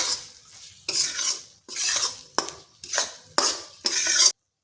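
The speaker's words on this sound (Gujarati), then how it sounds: "તો બધું જ આપણે મિક્સ કરી લઈશું" Tindora (ivy gourd) vegetable curry, wedding-style with special masala, being stirred in a pan: six loud, distinct scraping strokes at an irregular pace, close up, with no talking.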